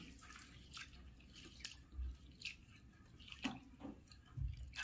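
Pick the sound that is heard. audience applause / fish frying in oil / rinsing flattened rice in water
rinsing flattened rice in water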